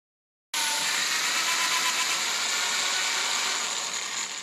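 A trimmer cuts .338 Lapua brass cartridge cases: a steady, loud, bright whirring hiss starts abruptly after a moment of silence and holds for several seconds with no voices.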